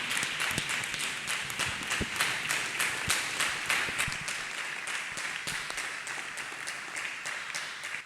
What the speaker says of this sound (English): Let us clap hands for Master Jesus. Clap hands for Jesus Christ,